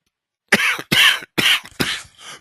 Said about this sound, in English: It's hard to talk and cough at the same time.